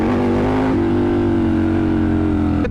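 A Triumph Scrambler 1200 motorcycle engine drones loud and steady under aggressive throttle, its pitch holding level and then briefly shifting near the end, with no talk.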